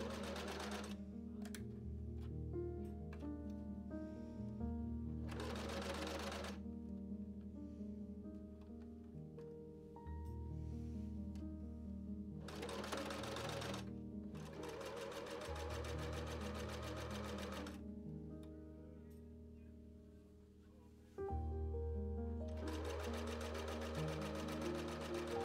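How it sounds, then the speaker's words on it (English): Sewing machine stitching in the ditch along a skirt waistband for a bustle-era costume, a few short bursts of stitching heard under continuous background music. "the back side was attached by stitching in the ditch"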